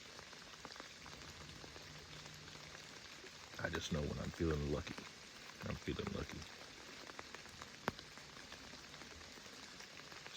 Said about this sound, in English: as this rain clears up